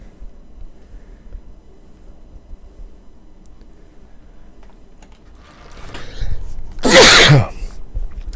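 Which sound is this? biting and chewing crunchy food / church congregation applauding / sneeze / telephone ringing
sneeze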